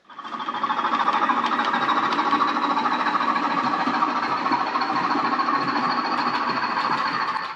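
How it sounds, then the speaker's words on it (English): A Bachmann Class 20/3 model locomotive with DCC sound runs a steady diesel engine drone, loud and continuous, rising in at the start and holding without talk. "the latest DCC sound is this Bachmann Class 20/3 new release"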